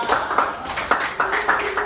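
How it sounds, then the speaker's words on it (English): Light classroom applause, a few short bursts of clapping from a small group of students, fairly near and moderately loud, with faint voices between the claps. "give applause"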